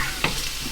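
Chicken frying in a pan, a short burst of close, steady sizzling with a single sharp crackle.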